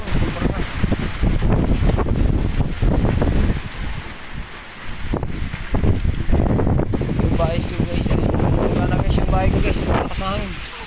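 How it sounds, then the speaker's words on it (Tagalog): Strong typhoon wind roars and buffets the microphone throughout in the rural Philippines, with gusts rising and falling, while a person talks over it. "Grabe, nakakarating ng hangin"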